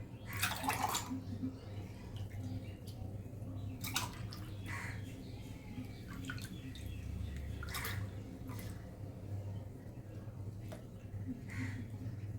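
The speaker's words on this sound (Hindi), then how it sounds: "इस तरह से हमें दोनों गिलासों में सर्व कर लेना है।" A chilled watermelon drink is poured into two glasses, producing faint, intermittent splashing and trickling against a low background hum, with no voices.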